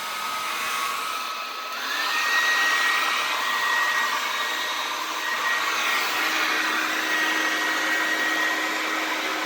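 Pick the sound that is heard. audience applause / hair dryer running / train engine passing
hair dryer running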